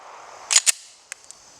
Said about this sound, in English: so let's keep shooting